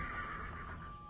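A horse neighs at night, a single short, close whinny held steadily for about a second with no other sounds.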